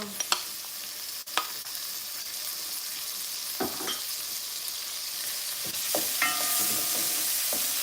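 Tomato frying in a hot pan, a continuous soft sizzle with a few sharp clinks and stirring scrapes, growing a little louder toward the end.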